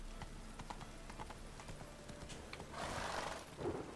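Galloping horse Roach in The Witcher 3, steady clip-clop hoofbeats at a quick rhythm with a breathy whinny near the end, fairly quiet and close.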